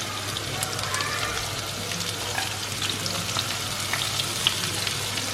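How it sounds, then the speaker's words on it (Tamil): Chopped onions and whole peeled pieces sautéing in oil for a country chicken curry, a steady close hiss and crackle that holds even throughout, with faint bubbling pops. "இப்போ இந்த வெங்காயத்தை வந்து நல்ல கோல்டனாக ஆகிற வரைக்கும் சாட்டே பண்ணிடும்"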